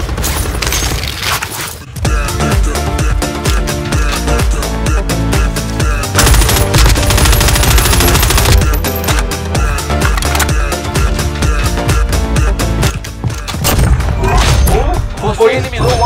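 Rapid automatic gunfire from Call of Duty Warzone in the gulag, dense continuous bursts of shots with mechanical clatter, loud throughout, with players talking over it.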